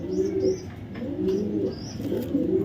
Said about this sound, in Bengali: দেখাবো একটা টপ কোয়ালিটির একটা ব্লু চেকার মাদি কবুতর পিআরপিএফসি ক্লাবের